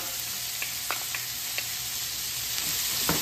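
Sliced garlic and Himalayan salt sizzle in a pan for pasta with Italian sausages, a soft continuous hiss with a few small crackling pops. The sound is close but fairly quiet, with no talking.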